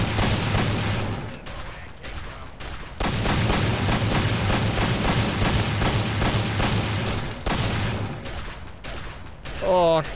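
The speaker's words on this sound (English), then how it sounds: "Such a loud gun." Loud rapid gunfire in modded Fallout 3, long dense bursts of shots with brief pauses between them, close and overpowering, with a voice briefly heard near the end.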